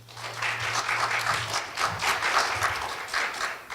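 Audience applause at a commemorative lecture marking the 55th anniversary of the April 19 Revolution in Korea, a steady wash of clapping from a hall crowd lasting several seconds, with no talk over it.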